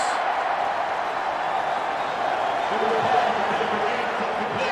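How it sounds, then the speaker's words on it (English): Steady roar of a packed NFL stadium crowd at Heinz Field during a Chargers–Steelers playoff game, a broad continuous wash of noise swelling slightly midway, with faint commentary voices beneath. "backed up, the crowd noise"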